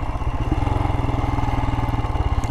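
A Royal Enfield Himalayan motorcycle idles with a rhythmic, throbbing engine beat as it is shifted down into first gear, close and steady.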